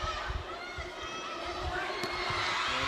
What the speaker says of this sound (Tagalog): Crowd loving this.